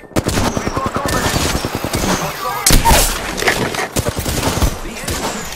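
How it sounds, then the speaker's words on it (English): Rapid gunfire in the video game Apex Legends, with dense bursts of automatic shots and a few heavier blasts, loud and close, alongside a voice speaking. "The enemies are shooting at me."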